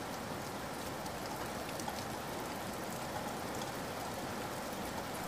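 Steady rain falls in an even, dense patter and hiss, constant and moderately faint throughout with no breaks or other sounds.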